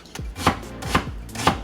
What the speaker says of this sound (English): I'm just chopping them coarsely.